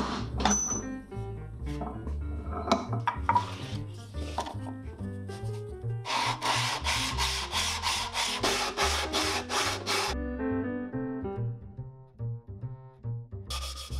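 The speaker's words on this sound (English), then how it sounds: "I do a little more sanding before the next assembly." Rapid, rhythmic strokes of sandpaper rub across the ends of a wooden box to bring them flush, close and fairly loud. Bursts of fast back-and-forth rasping are broken up by short pauses.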